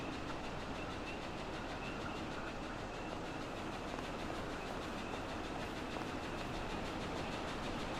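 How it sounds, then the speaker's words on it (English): A train rumbles past in a foggy scene from the video game We Happy Few, a continuous, dense roar with faint rhythmic clatter that holds steady throughout. "Is that a train?"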